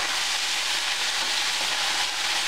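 Pork tenderloin with bell pepper and soy sauce stir-frying in a hot pan, giving a steady, close, loud sizzle with soft stirring scrapes and no pauses.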